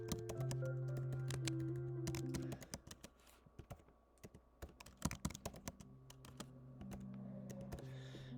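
Someone types on a computer keyboard in a quiet room, a quick, uneven run of close key taps with a short pause partway through before the typing resumes.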